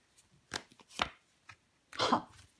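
A tarot card laid down on a table during a reading: a few soft, dry taps and slaps spaced apart, close and quiet, ending in a slightly longer brushing contact.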